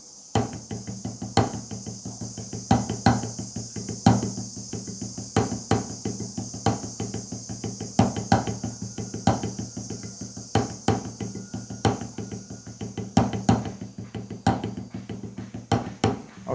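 Drumsticks play two paradiddle-diddles then magic sticking using rebound strokes, producing crisp, sharp clicks in a quick repeating pattern at a moderate distance, heard alone over a faint steady background hum.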